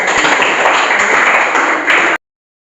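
A classroom of students applauds the presenting student groups, a dense, steady wash of many hands clapping together for about two seconds before stopping abruptly.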